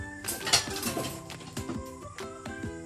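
A metal ladle clanks and clinks repeatedly against a cooking pot in a home kitchen, a run of close, bright knocks in an irregular rhythm.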